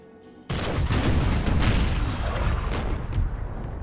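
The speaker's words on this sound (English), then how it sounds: "God, this English field artillery." English field artillery fires in the Empire: Total War battle game. A loud barrage of booms and cracking shots starts abruptly and rolls on densely in rapid overlapping bursts.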